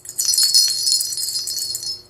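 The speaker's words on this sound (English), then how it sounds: "Got this cute bell from Joann's, and I just had to get it." Small craft-store bell on a fursuit collar jingling continuously, bright rapid tinkling shakes close to the listener with no talking.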